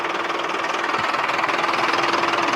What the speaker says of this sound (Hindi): ये साइलेंसर की तरफ हमने कैमरे को किया और एक्सीलेटर दिया